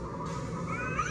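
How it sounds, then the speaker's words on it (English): A Halloween animatronic prop gives a single short, harsh, drawn-out cat yowl, loud and close, that bends upward in pitch at the end, alone, with no talking. "I love the scary cat sound."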